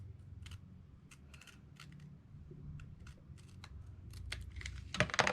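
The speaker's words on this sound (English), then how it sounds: "So now I think I'm gonna just snip the top part with my scissors." Scissors snip the top of a paper page for a handmade shabby-style journal, producing a quiet, uneven series of small crisp clicks close by, growing slightly louder at the end.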